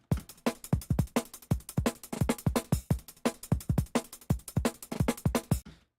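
A fast breakbeat drum loop with punchy kicks, crisp snares and busy hi-hats, played loud and continuous at a quick drum and bass tempo.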